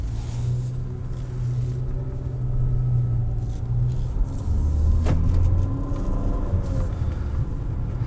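Cabin sound of a 2020 Infiniti QX50 with a CVT driving in sport mode, a steady low engine and road rumble with gentle swells as it accelerates, no talking.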